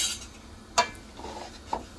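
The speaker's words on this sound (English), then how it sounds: "I'm gonna stir it" Seasoned pork with soft bone is stirred on a stove, a few soft clinks and scrapes of a utensil against the pan, fairly quiet and close.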